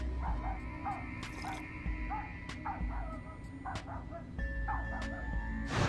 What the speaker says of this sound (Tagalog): Ang Shih Tzu na ito na mahilig magtatahol